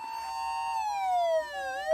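Mid-period Osaka Siren OPS-5101V-Q ambulance siren amplifier sounding a clear electronic wail, its pitch gliding slowly downward over two seconds, loud and alone.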